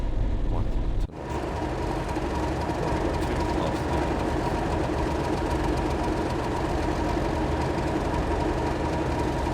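A Class 31 diesel locomotive in Train Sim World 5 pulling away from a stand after a sharp brake release, with a steady heavy engine drone and a faint rhythmic rumble as it slowly starts to move.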